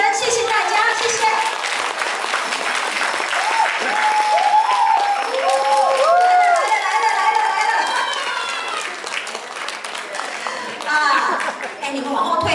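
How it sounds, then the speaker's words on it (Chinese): An audience at a reading club's Christmas party claps warmly for a long stretch, loud and continuous, swelling in the middle, with voices, including children's, talking and calling over it. "我想借用大家的双手给我们执行长副执行长一个最热烈的掌声"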